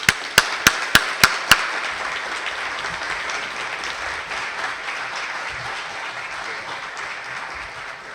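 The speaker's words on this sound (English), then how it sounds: "Please join me in a big round of applause" An audience at a lecture by a bicycle frame builder welcomes the speaker with sustained applause, opening with a few sharp, distinct claps before settling into a dense, steady roar of many hands.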